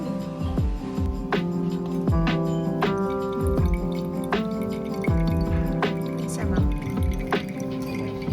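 Dashi broth is poured out in several parts in Kyoto, giving a run of close, ringing drips and splashes that come in uneven bursts with short pauses between pours.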